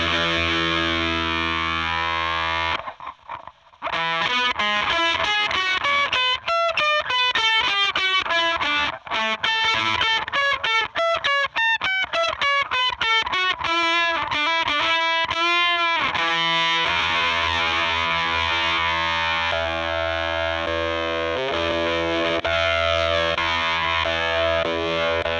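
A guitar played through a Canyon Climber distortion pedal gives a loud, saturated, sustained tone, first as held chords, then as a fast run of rising and falling notes, then settling back into a thick ringing chord.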